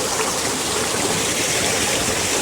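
Water rushes steadily through a newly built irrigation canal in a hill village, a loud, continuous broadband hiss and gurgle with no voices.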